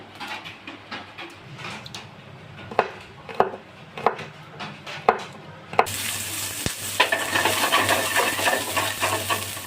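Garlic and onion frying in hot oil for chilli prawns: sharp utensil taps and scrapes against the pan at first, then a sudden loud, dense sizzle that swells and holds to the end, with no speech.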